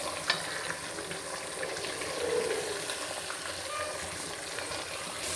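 Potatoes and pointed gourd fry in hot oil, giving a continuous bubbling sizzle at an even level, with one small clink near the start and no talking.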